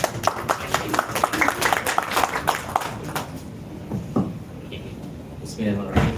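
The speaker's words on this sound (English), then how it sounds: "let's give a big clap to Azam" Audience applause at an evening gathering in Chiang Mai, Thailand: dense, brisk clapping for about three seconds that thins out and fades, followed by scattered noises and murmurs from the room.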